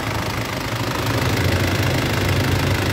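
A 16-year-old, all-original Isuzu Crosswind with a 4JA1 2.5-litre turbo diesel idles up close, giving a steady, dense, unbroken rumble with no talk over it.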